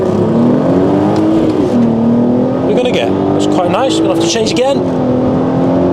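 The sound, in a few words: Volkswagen Golf R32 accelerating hard from launch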